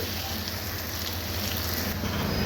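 Chicken fries in a pan with continuous dense sizzling and crackling, steady and close, without any voices.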